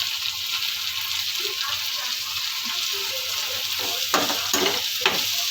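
Finely chopped tomatoes sizzle and hiss loudly in hot oil in a pan for soya chaap, a constant bright frying sound with soft stirring scrapes near the end.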